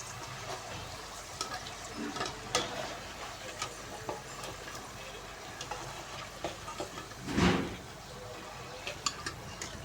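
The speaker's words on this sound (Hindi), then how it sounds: "अब माशाल्लाह हमारी जो है जिंगर फ्राइज़ अच्छे तरीके से फ्राई हो रही है आपके सामने।" Potato zinger fries frying in hot oil: a steady, close crackling sizzle with scattered ticks and one louder clatter of utensils partway through.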